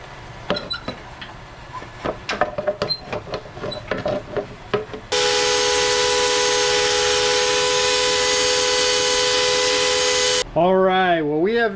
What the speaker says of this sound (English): we'll go back to sanding and go from there